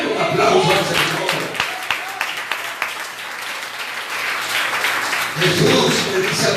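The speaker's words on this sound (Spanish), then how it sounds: "Denle un aplauso al Señor." A church congregation claps, loud at first, thinning to scattered claps with a voice talking over them, then swelling again near the end.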